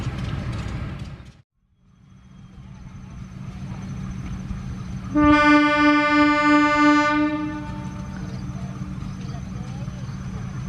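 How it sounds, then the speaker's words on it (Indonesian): Horn of a KLB special train hauled by a Sprinter locomotive departing Cipendei station, one long loud blast over a steady engine rumble, with voices present. "Next kita tunggu kereta api KLB ini diberangkatkan dari stasiun Cipendei."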